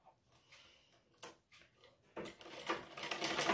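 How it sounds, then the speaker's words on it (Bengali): A sewing machine stitching blouse fabric along a marked line: quiet handling and a few soft taps, then the machine starts and runs louder for the last second or so, with no talking. "এইভাবে আমরা এখানে বসিয়ে দাগের উপর বসিয়ে সেলাই করে দেব।"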